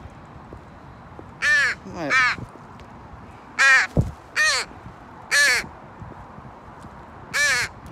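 A crow caws loudly and nearby, about seven harsh calls spaced irregularly over several seconds, with someone briefly speaking in between.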